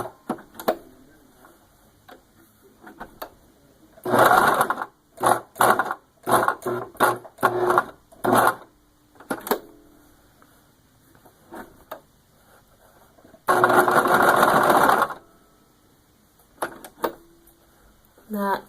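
A sewing machine stitches a curved piece of fabric for an eye mask in short stop-and-start bursts, whirring close up, one longer run near the end.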